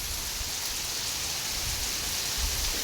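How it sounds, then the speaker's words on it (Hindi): Heavy rain falls steadily, a dense, even hiss of drops on surfaces that holds at a constant level without pause. "इतनी बरसात में भी काम हो रहा है।"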